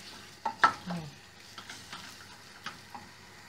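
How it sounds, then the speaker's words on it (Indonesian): Beef sautés in a pan for soto daging sapi, with a faint sizzle broken by several scraping stirs and utensil taps spaced irregularly. "So we saute until our beef becomes brown."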